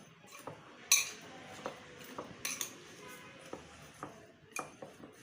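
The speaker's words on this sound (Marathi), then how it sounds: "आपण आता कालवून घेऊया लोणचं" A spoon scrapes and clinks against a dish in irregular, scattered strokes, close and fairly quiet, as thick raw mango pickle is mixed.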